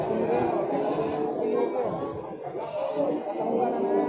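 Goats at a livestock market bleat repeatedly over a continuous background of people talking, the calls close and overlapping with the chatter.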